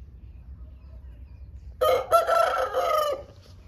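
A rooster on a Punjabi farm crows once, loud and close, a drawn-out call of about a second and a half breaking a quiet background.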